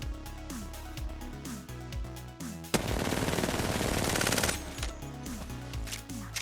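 Rifle gunshots ring out at the range in quick, evenly spaced bursts, with a sustained automatic stretch in the middle before separate shots resume, sharp and close.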